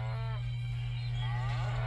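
Cattle mooing in the Roblox video game, a steady, loud, sustained low moo with harmonic layers running throughout, close and without speech over it.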